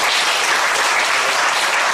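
Dense, steady applause from an audience at a book launch and book concert fills the room. The clapping stays loud and continuous for two seconds with no speech over it.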